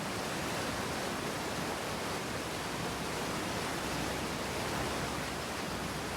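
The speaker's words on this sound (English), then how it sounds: "that waterfall is very loud" A waterfall in the Outer Wilds video game roars as a loud, steady wash of broadband noise that never lets up, with no voices over it.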